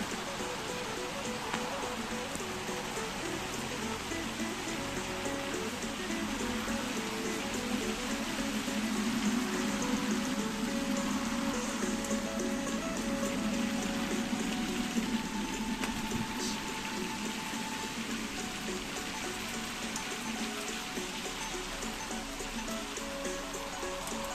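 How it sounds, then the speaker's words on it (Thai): Rain falls steadily over a backyard garden of sakura and fruit trees, a constant even wash of droplets on surfaces, moderately loud and unbroken throughout. "ฝนตกค่ะ"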